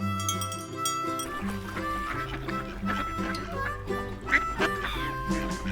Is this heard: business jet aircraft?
no